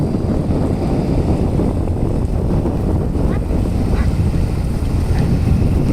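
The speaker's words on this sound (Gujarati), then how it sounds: "હા જો સામે પણ બોટ આવે છે." A boat approaching in Veraval harbour among fishing boats, a loud, continuous rumble of engine and water mixed with heavy wind buffeting the microphone.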